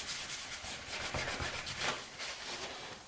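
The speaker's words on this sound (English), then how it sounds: "take your paper towel and just rub the ink off of the wax a little bit more" A paper towel rubs ink off a wax surface on a steampunk bee craft tag, giving a steady, soft, close scrubbing with a few stronger strokes.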